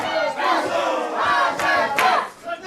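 Wrestling crowd at a South Wales Pro Wrestling show roaring loudly and continuously, swelling in waves with sharp shouted bursts over a dense wall of voices.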